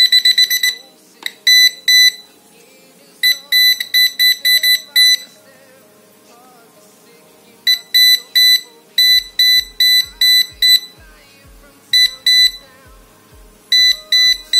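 Bursts of high-pitched electronic beeping from a Taffware non-contact voltage tester near a cable, in rapid rhythmic clusters, stopping and restarting several times, with soft low thumps underneath in the second half.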